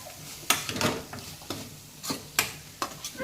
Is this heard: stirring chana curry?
yes